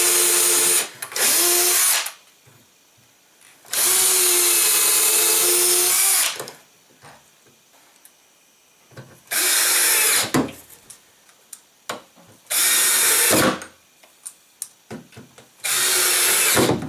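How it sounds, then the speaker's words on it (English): A power drill drives screws through hinges into a wooden frame for a foldable flight simulator, buzzing in four or five loud bursts of two to three seconds each, with short spinning whirs between them and pauses in between. "So I'm just gonna screw in the hinges right behind me."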